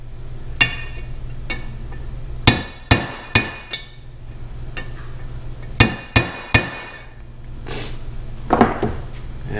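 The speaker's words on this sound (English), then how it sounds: "a pretty good tool to punch it down in there is a long socket wrench extension" A long socket wrench extension punches a seal into the lower unit of an 18, 20 or 25 hp Johnson Evinrude outboard. It lands as sharp, ringing metal taps, singly and in quick pairs, over a faint steady hum.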